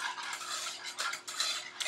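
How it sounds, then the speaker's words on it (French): Lemon cream whisked in a pan over the heat, a quick rhythmic scraping and clinking of the whisk against the metal, close and continuous with slight pauses. "Quand ça bouge, je maintiens sur le feu tout en remuant pendant à peu près"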